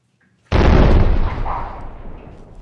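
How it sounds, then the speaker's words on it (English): A single explosion sound effect: a sudden deep boom after a moment of silence, loud and close, with a long rumbling tail that slowly dies away. "No more silly explosion special effects."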